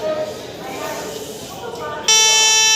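A train's horn sounds loud and sustained at a railway station platform at night, starting abruptly after murmuring crowd noise and continuing steadily to the end.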